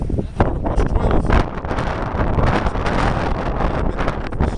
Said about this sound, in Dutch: It's a bit of wind.